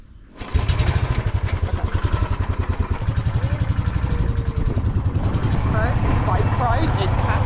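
Motorbike in Kashmir starts up and settles into a loud, close, steady putter with a rapid rhythmic engine pulse throughout, while a voice speaks briefly over the running engine.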